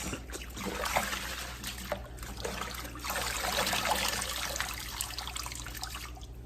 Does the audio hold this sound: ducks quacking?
no